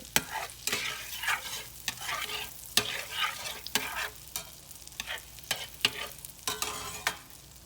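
Cabbage fries in a pan, browning before onion goes in: a constant hiss of sizzling fat punctuated by frequent sharp scrapes and clicks of a utensil stirring, close and fairly loud, with no talking.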